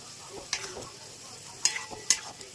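Spice paste frying with spinach and coriander paste for a spinach chicken dish, a soft steady sizzle with a few sharp stirring scrapes, close and fairly quiet.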